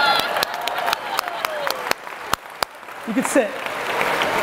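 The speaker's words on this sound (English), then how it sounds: "let's clap it up for these patriots" Applause at a real estate keynote, a dense patter of clapping from an audience filling the first seconds and fading as someone speaks over it and the crowd settles.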